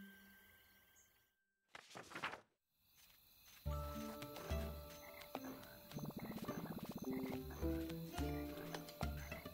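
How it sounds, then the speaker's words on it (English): Frogs croak and sing in a night swamp in The Plucky Squire, a rhythmic chorus of layered pulsing calls with tonal game music, following a quiet start and a brief burst of noise. "The swamps are kind of moody at night. Check out those singing frogs."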